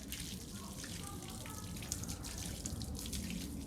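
Running water from a tap pours steadily over a cocker spaniel being wetted during a dog bath. The splashing and hiss are constant and close, with small drips and spatters, and no one speaks.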